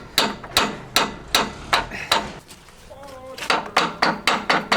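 Hammer blows drive pins into place on a baler with a dropped axle, about a dozen sharp metallic strikes in steady rhythm, close and loud, pausing briefly midway amid faint background noise.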